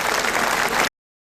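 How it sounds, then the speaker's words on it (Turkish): Crowd at an anti-China demonstration breaking into applause, a loud burst of clapping that cuts off abruptly after under a second. "kocaman bir alkış"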